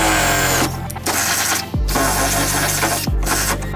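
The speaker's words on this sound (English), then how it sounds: "you are drilling through 2 layers of sheet metal, so this will take a sharp drill bit" A loud power drill whines continuously, its pitch dropping twice as the bit bites and catches, grinding close up through two layers of sheet metal on a Mercedes Sprinter van.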